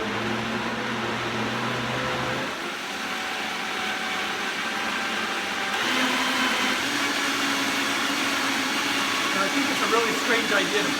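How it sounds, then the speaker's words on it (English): A blender whirs steadily while making a natto smoothie with herbs, a loud constant motor drone that shifts pitch partway through as the load changes. "Put it on the blender."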